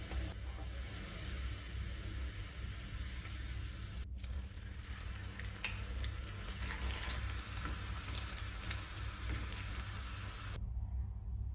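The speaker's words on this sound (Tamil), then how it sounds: "எண்ணெய் காஞ்சிருச்சு. ஒவ்வொன்றா பொரிச்சிடலாம்." Cauliflower 65 pieces deep-frying in hot oil, a steady dense hiss and crackle of bubbling oil running evenly throughout at close range, with no talk.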